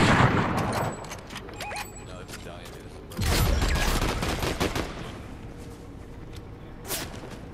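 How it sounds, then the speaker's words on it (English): Fortnite gunshots in a Zero Build match: a burst of shots early on, then a louder, denser volley midway with clicks and mechanical rattles, and one more sharp crack near the end. "Where am I getting shot from?"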